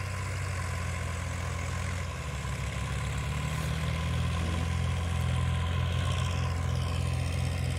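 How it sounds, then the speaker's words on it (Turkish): Two tractors work a field, their diesel engines droning in a steady, loud low-pitched rumble that runs throughout without voices. "İşler erken bitsin diye iki traktör çalışıyor."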